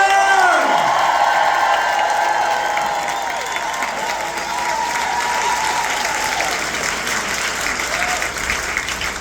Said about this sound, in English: We have another round of applause for Brad Lander!